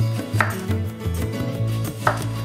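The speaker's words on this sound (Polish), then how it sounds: "Kroimy ogórka na około pół centymetrowe kawałki." A knife chops a cucumber into half-centimetre pieces on a board, giving a few close, sharp cuts at an unhurried pace with no voices.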